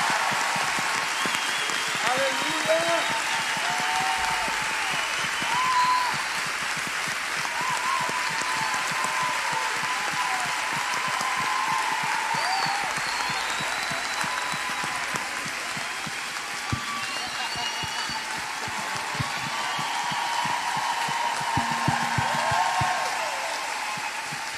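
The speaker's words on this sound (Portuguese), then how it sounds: "Eu queria pedir de verdade que você levante as mãos e dê uma grande salva de palmas para você." Sustained, loud audience applause rolls on for over twenty seconds at a women's church congress, a thick continuous clapping wash with scattered cheers and whoops, and voices shouting within it.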